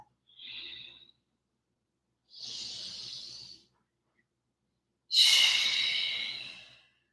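Slow, deep yoga breaths drawn in through the belly and pushed out again, three long airy breath sounds in a quiet room with pauses between, the last exhale the loudest and longest.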